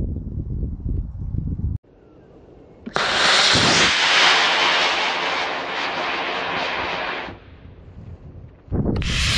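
A model rocket on a D12-5 motor lifts off on a windy day, its motor roaring in a loud, close, broadband rush for about four seconds before tapering away, with a quieter lull and a renewed burst of wind noise at the end.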